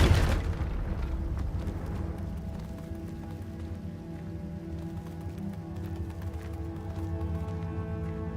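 A Confringo blasting spell in Hogwarts Legacy bursts in a single loud explosion, then a long rumbling tail of crackling debris and low roar lingers.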